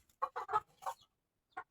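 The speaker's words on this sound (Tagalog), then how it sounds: "Yung manok ni Apong" A chicken clucks close by in a handful of quick, choppy bursts, then goes quiet for a moment before one last short cluck.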